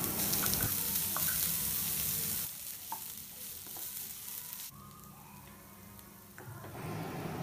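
Vegetables and mashed boiled potatoes being stirred and sautéed in a pan for a Tamil-style veg bread roll filling, a steady close sizzle with scraping spoon strokes throughout.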